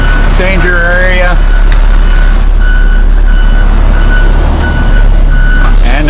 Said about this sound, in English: that's what the backup alarm's for anyway